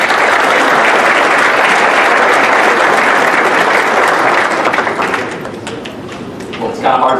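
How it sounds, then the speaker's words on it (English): A banquet crowd at a basketball writers' awards dinner breaks into sustained, loud, dense applause close by, which thins toward the end as a voice begins speaking. "Big round of applause for Alex tonight."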